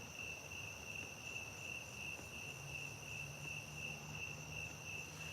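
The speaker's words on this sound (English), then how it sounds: "I think those might be crickets though." Crickets chirp outdoors on a homestead in a steady, unbroken high trill, faint and distant, with no one speaking.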